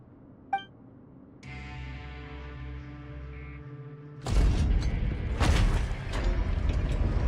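A sluice gate mechanism in the video game Genshin Impact grinds open with a low droning mechanical hum after a faint click, then erupts into a loud rumbling, clanking rush of heavy machinery and surging water, with no voices.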